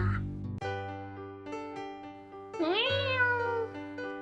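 A cartoon cat in a 2D animation meows a few times, up close, with a longer rising and falling meow toward the end.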